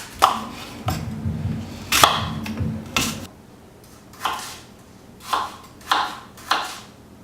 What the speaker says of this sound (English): The way I like to chop my apples, I'm going to get a smaller knife for this.